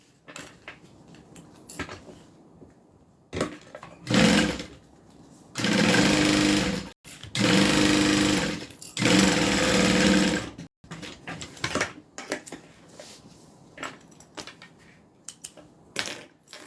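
A sewing machine stitches through three stacked layers of a crossbody bag at once, running in three loud sustained bursts separated by brief pauses, with quieter handling clicks and rustles of fabric before and after.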